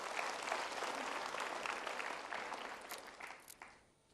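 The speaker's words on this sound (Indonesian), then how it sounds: "kita tepuk tangan dulu" Studio audience applauding at an Indonesian motivational talk show, a dense, steady patter of many hands clapping close by for about four seconds before tapering off at the end.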